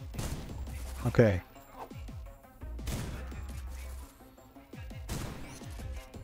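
Shotgun blasts in the video game SlavicPunk: Oldtimer, four loud booming shots spaced a second or two apart amid game noise, with someone talking briefly between them.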